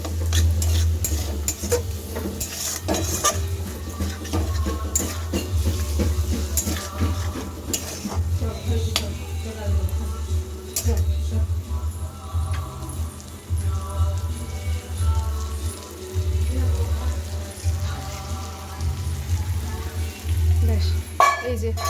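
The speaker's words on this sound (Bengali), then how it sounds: "ভালো মতন কষাবো এটা ভালো করে মশলাটা যতক্ষণ না পুরোপুরি ভালোভাবে তেল ছাড়বে" Spice masala being sautéed and stirred in oil in a wok for a home-cooked potato curry, with a steady sizzle and repeated scraping and clinking of the spatula against the pan throughout, close and fairly loud.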